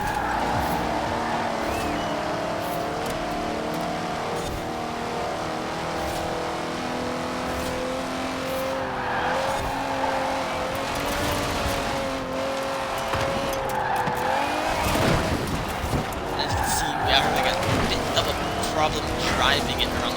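The V12 engine of a BMW 850CSI drones steadily through a Forza Horizon 4 race, its pitch rising and falling as it shifts, and tires squeal and skid in bursts toward the end while a voice talks over it.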